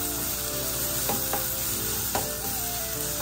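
Onion, chili and curry leaves sauté in hot oil in a pan, a close, steady sizzle with occasional stirring scrapes.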